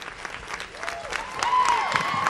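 Studio audience applauding at a Puerto Rican variety show, steady clapping that swells slightly louder toward the end, with some whistles and cheering mixed in.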